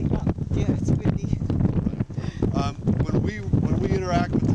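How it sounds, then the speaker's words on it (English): Gusty wind buffets the microphone steadily in New Mexico, with people talking over the rumble throughout. "Yeah, it's windy."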